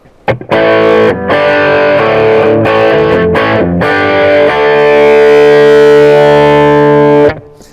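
Loud distorted electric guitar through the crunch channel of a Bogner Ecstasy amp playing rock chords, with a few short strummed hits and then a long sustained ringing chord that cuts off.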